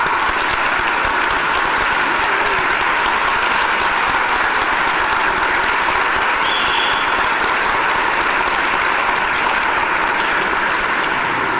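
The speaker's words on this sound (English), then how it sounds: "let's give them a big round of applause" Sustained, loud audience applause for volunteers at a college homecoming convocation and alumni awards ceremony, dense steady clapping from a large crowd throughout, no talking.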